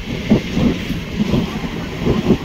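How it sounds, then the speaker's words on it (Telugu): The 17239 Simhadri Express runs on rails between Bhimavaram and Visakhapatnam, its wheels giving regular clickety-clack thumps over a steady rolling rumble. "ఇప్పుడు మన ట్రైన్ అయితే మెయిన్ లైన్లో జాయిన్ అవుతుంది"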